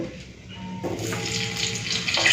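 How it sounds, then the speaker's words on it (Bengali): Potatoes and cauliflower fry together in hot oil left from frying fish, giving a steady close hiss and crackle that builds and stays bright, with no talking. "আলু ফুলকপিটাকে একসাথেই ভেজে নিচ্ছি"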